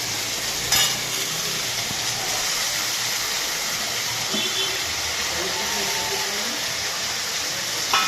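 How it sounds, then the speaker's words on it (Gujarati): Sliced sponge gourd, cucumber and dried onion sizzle and fry in a pan with cumin, a steady close hiss with occasional stirring clinks. "હવે જે આપણે કટિંગ કરીને રાખેલું છે તે બધું શાક અંદર ઉમેરી દઈશું"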